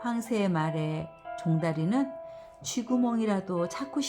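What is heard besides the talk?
No distinct noise like a dog, phone or traffic.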